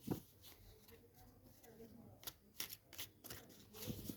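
Tarot cards are drawn and shuffled from a full deck, soft papery flicks and light taps scattered through the clip under quiet speech.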